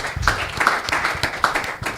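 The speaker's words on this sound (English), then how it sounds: "Please let's give him a round of applause." Applause from a conference audience at a research and innovation convening, a steady wash of many hands clapping at moderate loudness through the whole stretch.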